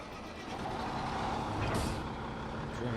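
A truck reverses in Farming Simulator, its steady engine rumble joined by a brief hiss of air brakes and reversing beeps, fairly loud and close with no talk over it.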